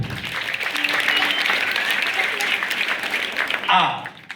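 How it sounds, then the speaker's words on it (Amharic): Children at a conference clapping for themselves, a burst of dense applause from a crowded room that fades out near the end as a voice starts to speak. "ለራሳችሁ አጨብጭቡ"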